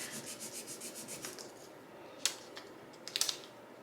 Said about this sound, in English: I'm gonna have to do quite a bit of rubbing